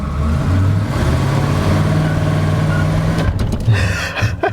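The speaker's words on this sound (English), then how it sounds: "let's see if we can use this space to do a burnout" A ramp truck's engine runs loud and rough close by, rumbling steadily before revving and sputtering toward the end, with no talk.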